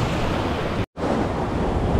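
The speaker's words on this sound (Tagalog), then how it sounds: "Ang laki ng alon." Big sea waves crash and surge against a seawall, a loud continuous roar of surf with heavy wind noise buffeting the microphone, broken by one brief dropout near the middle.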